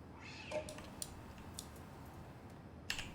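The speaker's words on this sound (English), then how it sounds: "Street cats." Street cats meowing in a back alley in the video game Twin Mirror, a few short faint cries at spaced intervals over a low ambient hum.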